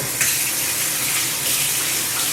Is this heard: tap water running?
yes